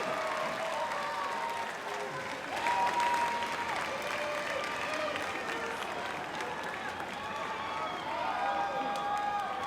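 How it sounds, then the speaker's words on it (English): A graduation audience at a 2019 high school ceremony applauds steadily for the whole stretch, a dense wash of clapping from a large crowd with a few faint cheers mixed in. "thank your parents and those supporting you with a round of applause"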